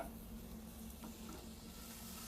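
Butter melting in a pot over medium-high heat gives a steady, soft sizzle with faint stirring, continuous and even throughout with no voices.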